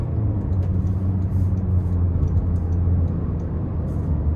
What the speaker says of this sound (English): let's go ahead and take this 2026 Corolla Cross XLE out on the road for a test drive